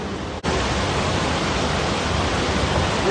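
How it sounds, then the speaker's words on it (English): A waterfall near a cave on a hiking trail, heard as a loud, steady broadband rush that stays constant with no speech, interrupted only by a brief dropout near the start. "Show you all this waterfall, guys."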